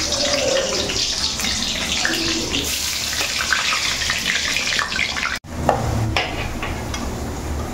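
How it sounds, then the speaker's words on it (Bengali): Potato pieces fry in hot oil, giving a steady close hiss with faint bubbling and a brief dropout partway through before the sizzle carries on. "প্রথমে আমি আলুগুলোকে ভেজে নিই"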